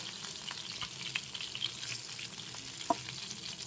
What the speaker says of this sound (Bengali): এপাশ ওপাশ করে একটু ভেজে নিতে হবে মাছগুলো